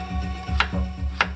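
A kitchen knife chops hard vegetables such as carrots on a board, with two crisp, evenly spaced strikes over a steady tonal background hum.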